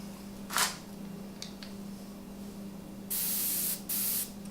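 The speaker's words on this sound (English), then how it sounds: "Getting good spray now." An airbrush sprays paint onto Chewbacca costume toes in two steady hissing bursts near the end, after a short puff, over a low constant hum.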